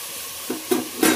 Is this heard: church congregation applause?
no